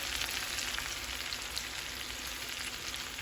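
Stuffed salmon cooking in a pan on the stovetop over medium-low heat gives a steady, close, even sizzle and hiss with no talk over it.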